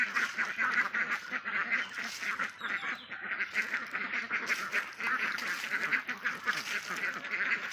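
Layer ducks at a duck farm, gathered to drink water beneath a wooden house, quack and honk constantly in a dense, overlapping flock chorus heard close by.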